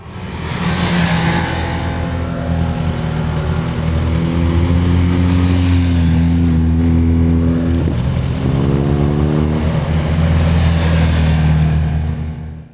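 Yamaha Fazer 600 motorcycle engine, after a stator change, running loud and close with a steady droning tone that shifts pitch as it is revved, continuous throughout.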